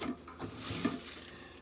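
Water running from a tap while dishes are washed, a soft continuous splashing flow with faint clinks, quiet and close.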